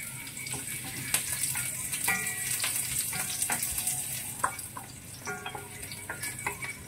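Garlic sizzling in hot oil in a home kitchen pan, a steady crackling fry with bursts of spatter and occasional scraping and stirring clicks, close and moderately loud with no talking.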